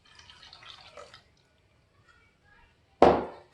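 Milk poured from a measure into a bowl of six whisked eggs for galactoboureko custard, a soft low trickle at first, then a sudden louder splashing pour near the end.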